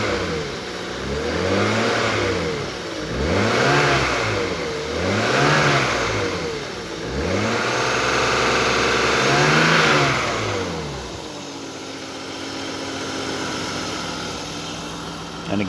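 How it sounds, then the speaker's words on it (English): A 1995 BMW E36 M3 engine is blipped five times in a regular rhythm, each rev climbing and falling quickly, before settling into a steady idle, loud and close. "Give it a couple revs."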